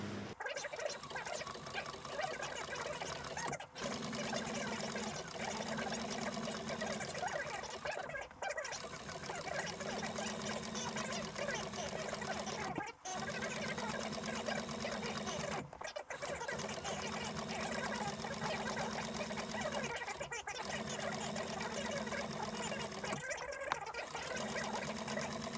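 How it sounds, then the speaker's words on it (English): A sewing machine stitches a leather bag panel with a continuous, fairly quiet mechanical whir and hum. It stops briefly every few seconds, giving regular short gaps, and nobody speaks. "now we'll go to the machine and we'll sew this up"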